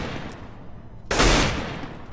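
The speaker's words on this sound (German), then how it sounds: "André, schieß in den Vent rein" Rapid automatic gunfire erupts in a Counter-Strike match on the Assault map, a loud burst of shots lasting about half a second then trailing off into the game's ambient noise.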